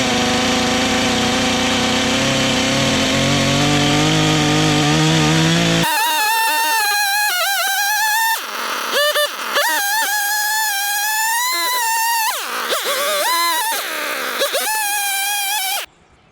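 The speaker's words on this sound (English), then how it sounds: "so I'm gonna have to cut off the bigger pieces with the chainsaw." A chainsaw roughs out a wooden carving blank for a largemouth bass, loud and close: a rough, steady drone for several seconds, then a higher revving whine that rises and dips with brief breaks before cutting off.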